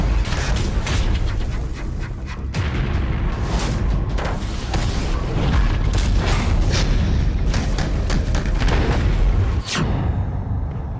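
A military tank fires in loud, heavy booms with mechanical rumble and clatter, several blasts landing close together over a continuous roar.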